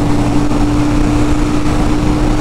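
A Royal Enfield Super Meteor 650 motorcycle with a six-speed gearbox accelerates hard in fourth gear on an open road, its loud, steady engine drone and strong low rumble dominating throughout, mixed with wind roar.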